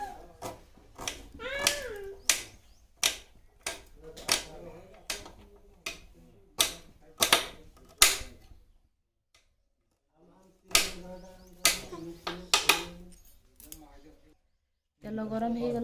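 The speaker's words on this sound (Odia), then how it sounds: "ମୁଁ ପିଆଜ କାଟୁଛି, ଦେଖନ୍ତୁ।" A knife chops onion on a board in a home kitchen while Odia-style prawn and dried fish dishes are being cooked. Crisp, evenly spaced cuts come close and clear with a voice talking over them, then a short pause before more chopping.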